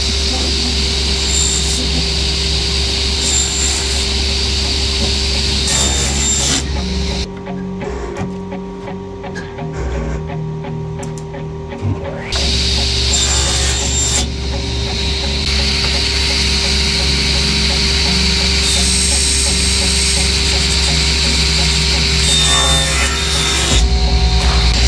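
Saw cutting pieces of beech heartwood on a workshop saw, a steady loud mechanical drone with harsh broadband rasp running nearly throughout, briefly dropping to a quieter hum partway before the cutting noise resumes.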